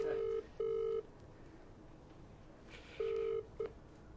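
Phone keypad dialing tones followed by ringback, heard in a quiet setting during a 2023 79 Series LandCruiser camping trip: two long steady tones, a pause, then another long tone and a short blip, clear and alone.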